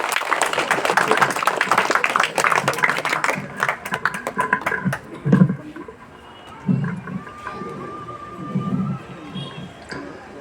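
An audience claps at an election awareness quiz session, a dense burst of applause lasting about five seconds that fades into a speaking voice and scattered light taps.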